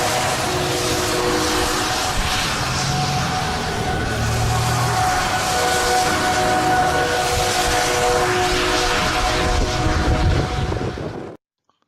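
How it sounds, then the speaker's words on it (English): A freight train passing through Louisville during a tornado, heard as a loud, continuous roaring rumble with a steady droning hum that holds for about eleven seconds before cutting off abruptly. "That was actually a freight train going through Louisville at the same time the tornado was occurring."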